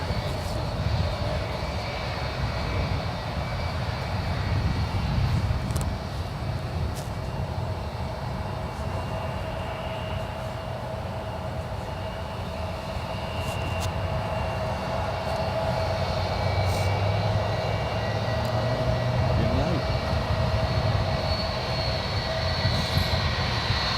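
An American Airlines plane on landing approach at San Francisco International Airport, a steady, broad aircraft engine roar held at a constant distance throughout with faint background noise and no talk.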